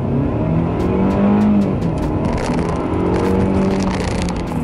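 A 2020 Mercedes-Benz C200 W205 petrol saloon accelerating hard in sport mode, the engine note loud and rising with a distinct gear change partway through, heard from inside the cabin with no talking.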